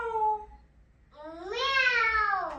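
A young child imitates a cat's meow in two drawn-out, sing-song vocal calls, the second rising and longer, close and clear with nothing else around them.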